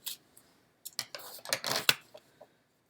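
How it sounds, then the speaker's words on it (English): Scissors snip through a paper card for a pop-up card, a few quick close crisp cuts with short pauses between them, over a quiet room. "And I'll cut off this side."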